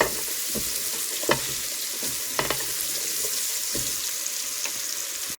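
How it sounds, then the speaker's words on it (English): Chopped onion stirred into browning sausage inside a Ninja Speedi cooker for red beans and rice, a steady close sizzle broken by a few sharp spoon scrapes and clacks, with no talking. "I'm going to add that to the sausage. We're going to stir that all around."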